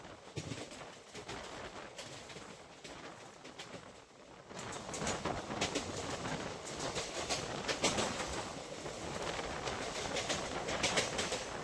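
Steady broadband rumble and clatter of a passenger train running on the rails between Tiruppur in Tamil Nadu and Chalakudy in Kerala, loud and continuous, swelling slightly midway with no voices.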